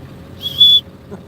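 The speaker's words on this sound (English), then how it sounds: "Got to give him the old dog whistle." A single short, sharp high-pitched whistle, brief and clear against quiet background.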